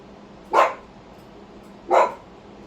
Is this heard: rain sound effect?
no